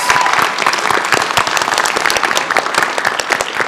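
Loud, dense applause from a panel audience at PAX East 2024, sustained without pause throughout, close and energetic.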